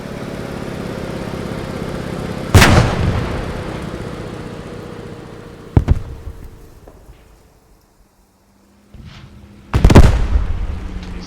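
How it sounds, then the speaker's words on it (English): Three loud, sharp gunshots or blasts crack out a few seconds apart during a World War II tank battle in Post Scriptum, with a rumbling engine-like drone between them and no talking. "That is Melchett firing furiously"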